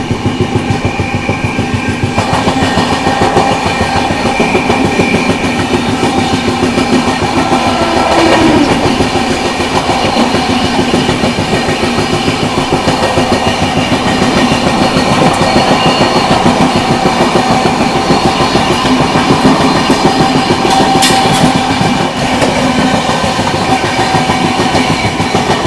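The Odisha Sampark Kranti Express overtakes the LTT Rajgir Express, a loud continuous rumble of wheels and rushing carriages with rhythmic clatter from close by and a brief high squeal near the end.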